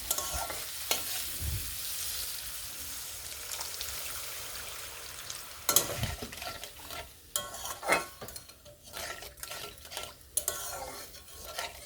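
Loud, steady sizzling of potatoes and spices frying in a pan. Sharper bursts and stirring clatter follow as water is added partway through, all heard close up.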